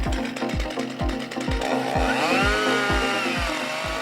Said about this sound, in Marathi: अशा वेळेस आम्ही पेट्रोल ऑपरेटेड सॉ कटर वापरतो